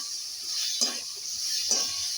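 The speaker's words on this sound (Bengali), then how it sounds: "এবার আমি যে লোটে মাছটা কাটা ছাড়িয়ে রেখেছি সেদ্ধ করে, সেটা দিয়ে দেবো। একটু নেড়ে ছেড়ে নেবো" Boiled, deboned lote fish being stirred into frying masala in a pan, giving a steady close sizzle with two brief scraping stirs.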